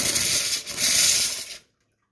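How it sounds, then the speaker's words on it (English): A Linea Mini espresso machine runs a brief cooling flush through its group head, a close, steady hiss of rushing water lasting about a second and a half before cutting off abruptly into silence. "I'll do a quick cooling flush."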